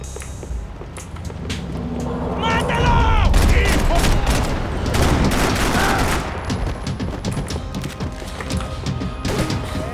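Semi-automatic pistol gunfire in the video game Max Payne 3, a loud burst of rapid repeated shots with sharp cracks and clatter, mixed with game sounds, and a voice talking over it.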